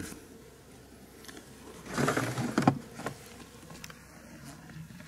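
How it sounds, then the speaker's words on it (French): Honeybees buzzing close by at a hive, a steady hum that swells louder in the middle with bees flitting past, no talking. "Toujours quelques abeilles qui se coincent sous le tiroir"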